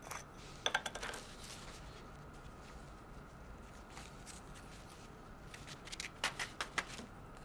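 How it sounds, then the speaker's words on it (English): Gold embossing powder sprinkled onto paper for a metallic embellishment, heard as soft, faint granular patters and light rustles in brief clusters near the start and end, with quiet stretches between. "I'm going to sprinkle some gold embossing powder on there now"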